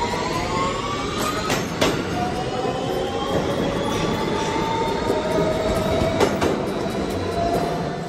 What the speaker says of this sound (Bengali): আমরা এফ ট্রেনে করে কোনি আইল্যান্ডের রওনা দিয়েছি।